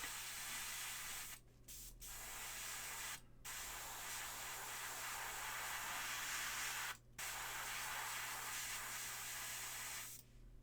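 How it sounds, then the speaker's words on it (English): Aerosol spray paint hissing onto Eldritch Omens Shroud Runners miniatures, several long continuous bursts separated by short gaps, close and steady. "I sprayed too much down here at the back."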